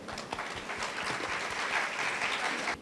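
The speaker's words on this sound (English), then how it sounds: "Claps for ma'am." An audience at a talk by a space scientist at a festival claps together in a dense, steady burst of applause that holds evenly and then stops abruptly.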